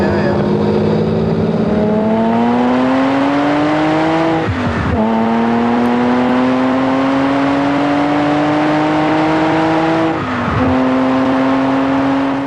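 A 1974 Lamborghini Countach LP400 driven hard at high speed: a loud, close engine note climbs steadily in pitch, dips sharply at two gear changes, then pulls upward again.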